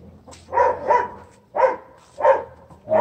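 Dogs, including Labradors, Alsatians and Rottweilers, bark in a farm kennel, sounding a series of about five loud barks at irregular intervals, moderately close.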